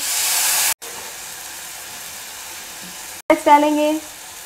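Capsicum frying in a pan on a low flame, tomato puree going in for a red-sauce macaroni: a steady sizzle, a brief break, then a louder burst of hissing as the puree hits the hot pan.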